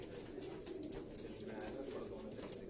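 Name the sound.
Sialkoti stuff breed pigeons cooing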